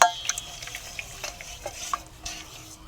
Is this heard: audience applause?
no